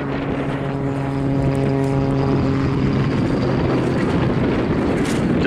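Grob Tutor T1 propeller trainer flying a display at Southport airshow, a steady loud engine and propeller drone with a strong harmonic hum that shifts in pitch partway through, continuous throughout with no talk.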